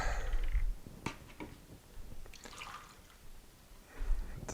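Distilled water poured out in a quiet setting, heard as a few faint, uneven splashes and drips spread across a few seconds rather than a steady stream.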